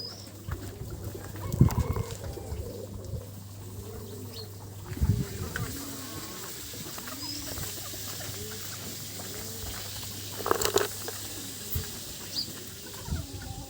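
Chickens and other fowl cluck and murmur near a tubewell outdoors, with soft repeated clucks throughout and a few louder squawking bursts, while insects buzz faintly in the background.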